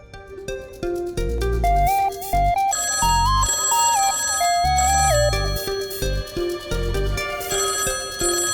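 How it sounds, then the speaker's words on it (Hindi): A loud electronic phone ringtone plays a repeating melodic jingle, close and continuous for several seconds, with no talking over it. "2-2 घंटी बज के फोन बंद हो रहा है। जब पूरी बजेगी ना तब उठना।"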